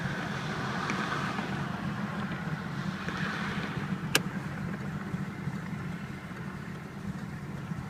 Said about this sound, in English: I'm gonna wait here for a little bit of traffic to go by